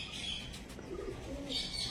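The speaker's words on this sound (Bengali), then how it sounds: "চলো দেখিয়ে দিই বাড়ির পায়রার বাচ্চা" Domestic pigeons of the pure Mangalgiri breed coo softly at home, a low murmuring call with a few faint chirps over steady background hiss.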